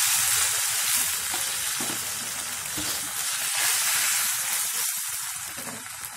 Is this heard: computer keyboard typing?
no